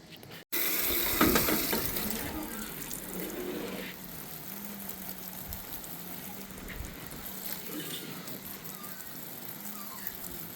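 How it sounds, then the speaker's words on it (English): Water pours steadily into a Mr Stacky's Smartfarm hydroponic vertical planter as the plants are watered, a close, continuous splashing flow that starts abruptly after a brief pause and runs on without talk. "So I'm just going to give them a little bit of a water."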